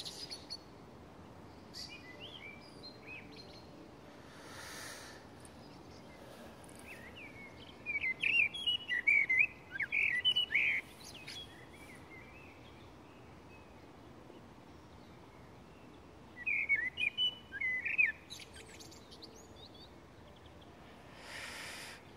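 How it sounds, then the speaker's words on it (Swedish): Birdsong in a cemetery in Spånga, Stockholm: two bursts of bright, lively chirping phrases, the first lasting a few seconds and a shorter one later, moderately close over quiet outdoor ambience. "det var en svängig fågelsång"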